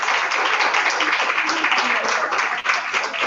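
Applause from a lecture audience fills the room as a dense, steady wash of many hands clapping at close range, continuing evenly for over three seconds.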